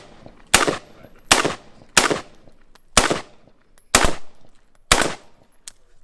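AR-15 rifle gunfire on a USPSA shooting stage: six loud, sharp shots spaced roughly a second apart, each with a short ringing echo, close and clear with no talk.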